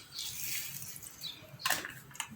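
Water is poured into a cooking pot while preparing stuffed pigeon, heard as soft, hissing, splashy pours, with a sharper burst near the end.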